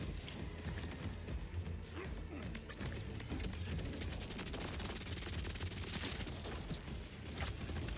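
Rapid automatic gunfire from a gun in Borderlands 4, dense sustained bursts of shots layered with game effects and impacts, loud and continuous throughout.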